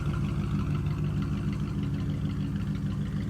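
A Ford Mustang Foxbody idles nearby in a steady, deep rumble with a low pulsing throb that holds evenly throughout, loud and close, with no talking over it.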